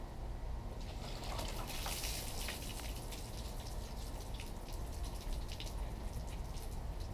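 Water is poured over a car coated in ceramic coating, making a faint, steady trickling and splashing as it runs off the surface, with quiet background noise.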